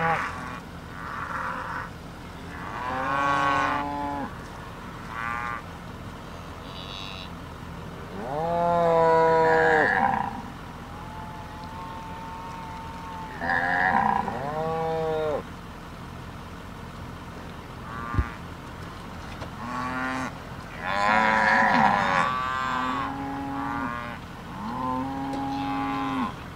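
Cattle low loudly and repeatedly on moving day, several long moos from animals near and farther off, some overlapping, outdoors with faint background noise.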